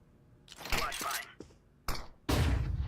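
In a video game, a flashbang grenade goes off with a sharp bang and ringing burst, preceded by a few thumps and clatters and faint voices in the background.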